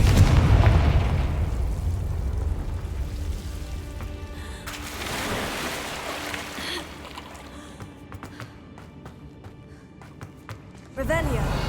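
In Hogwarts Legacy, the Confringo fire spell goes off as heavy, rumbling explosive blasts, with a strong burst at the start, another midway and a sudden one at the end. Crackling debris and voices sit beneath.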